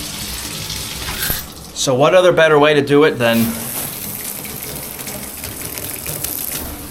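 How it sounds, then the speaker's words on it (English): Shower spray hits a golf rain jacket in a short, loud hissing burst lasting about two seconds between stretches of talk. "We're gonna see if these things can handle a shower"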